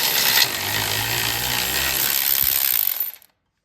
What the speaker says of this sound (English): Okay, I'm using my electronic ratchet.